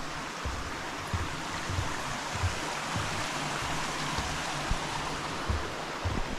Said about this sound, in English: So this is our first water crossing.